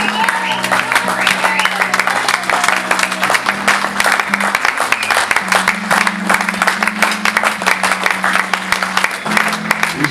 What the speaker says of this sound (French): Est-ce qu'on peut acclamer Dieu? On peut acclamer Dieu.